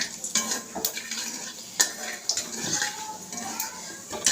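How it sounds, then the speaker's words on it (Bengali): Light clattering and stirring in a hot pan with a soft sizzle underneath, as whole cumin seeds and bay leaf fry in oil; brief clinks punctuate it. "এই যে গোটা জিরে আর তেজপাতা, এটা ফোড়ন দিলাম।"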